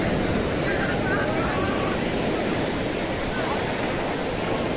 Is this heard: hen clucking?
no